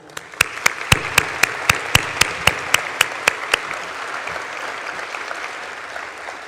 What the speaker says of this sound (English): Please join me in giving them a round welcome and a warm applause.